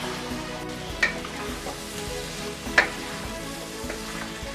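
Chicken curry with garam masala and chili powder sautéing in a pan: a low steady sizzle with two soft stirring knocks, over a faint tonal hum.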